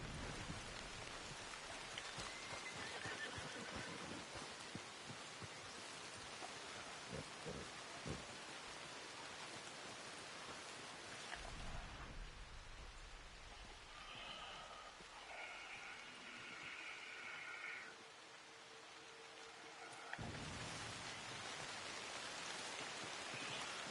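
Steady rain falls in the open-world game Red Dead Redemption 2, a dense, even hiss of downpour that runs throughout and briefly thins midway before returning full, with no talking.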